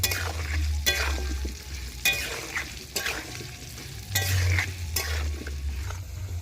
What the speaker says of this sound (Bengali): এবার এই মশলার সাথে আমটাকে খুব ভালোভাবে একটু ভেজে নেব।